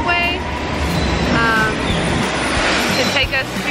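A London Underground tube train rumbles loudly and steadily at a station platform, with broad roaring noise throughout and people talking over it.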